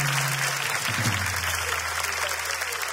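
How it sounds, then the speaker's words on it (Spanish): An audience at a live comedy show breaks into brief applause, a short burst of clapping that fills the room for a few seconds. "Un aplauso para mis amigos,"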